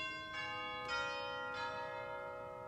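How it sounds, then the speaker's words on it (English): Chimes are struck three times at a slow, even pace, and each stroke rings out into a long, shimmering sustained tone that stays soft and steady. "Here are some chimes, so this is like somebody's knocking at your front door."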